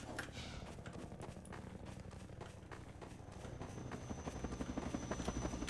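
A Half-Life 2 combat helicopter sounds as a fast, rhythmic rotor chop, quiet at first and building steadily louder as it draws nearer, with no talk.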